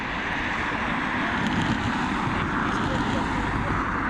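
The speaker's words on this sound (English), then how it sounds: "It's Airbus A320 operated by Aer Lingus." An Aer Lingus Airbus A320 departs Dublin Airport, a steady broadband jet roar mixed with wind noise, heard from a distance without pause.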